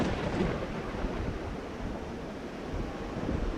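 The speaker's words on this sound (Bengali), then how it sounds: "হঠাৎ করেই বৃষ্টি শুরু হলো" Sudden cartoon rain with thunder, a dense steady rushing downpour with low rumbling throughout, loud and without speech.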